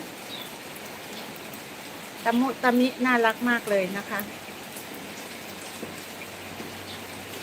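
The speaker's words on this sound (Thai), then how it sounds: "รับสายฝนนะคะ" Steady rain falls on green garden plants and flowering cactus around a farmhouse among rice fields, a soft even hiss throughout, while someone speaks briefly in the middle.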